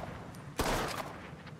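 A big gun fires once in Mafia III, a single sharp, loud blast that fades quickly against a quiet background.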